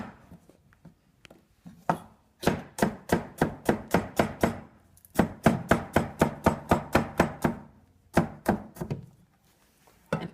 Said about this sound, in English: You need to cut them in little pieces